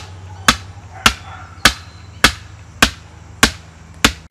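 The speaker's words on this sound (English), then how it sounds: "Trying to find a good place to drive this post in." A metal fence post is hammered into the ground for a temporary horse fence, with seven sharp, evenly spaced metallic strikes about every half second, each ringing briefly, close and loud.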